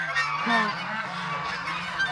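A Chinese goose at a farm pond gives a few drawn-out, nasal honks, close and fairly clear over a faint outdoor background.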